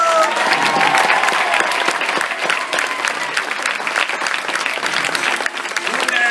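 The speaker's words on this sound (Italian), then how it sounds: "Applauso!" Sustained, loud applause from a cabaret audience, dense clapping filling the whole stretch without pause.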